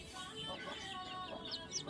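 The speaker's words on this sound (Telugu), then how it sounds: "కోడి పిల్లలను వదిలేసి మేత తింటుంది" Hen clucking softly among her chicks, faint repeated calls with light chirps over a quiet outdoor background.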